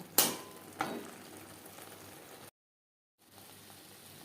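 Pointed gourd (potol) is mixed with spices in a pan for a vegetarian dish: two sharp stirring scrapes over a faint, steady frying hiss, then a brief silence before the soft sizzle returns.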